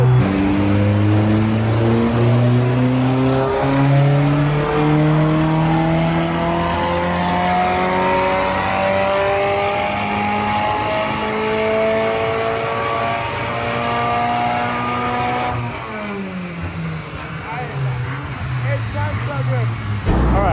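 A stock-engine, stock-ECU Mitsubishi Lancer Evo revs hard through the gears on a power run, its loud engine note climbing in pitch repeatedly with each shift before dropping off sharply near the end, heard close and continuous.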